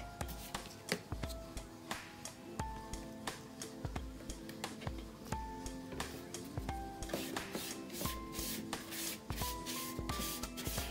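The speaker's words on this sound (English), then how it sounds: "we're gonna paint the inside black" A brush paints the inside of a cardboard shoebox black in repeated rhythmic rubbing strokes, close and fairly quiet, over soft steady background music.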